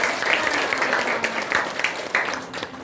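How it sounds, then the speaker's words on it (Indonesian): A class of students applauds their classmates during a lesson on short stories, a steady wash of many hands clapping together in a room, fairly loud and continuous throughout. "Beri tepuk tangan untuk teman-teman."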